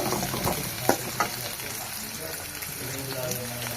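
Green chillies, curry leaves and onion pieces fry in a home kitchen pan, a steady close sizzle with a few sharper crackles early on, running continuously throughout.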